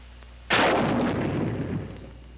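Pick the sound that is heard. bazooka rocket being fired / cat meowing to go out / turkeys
bazooka rocket being fired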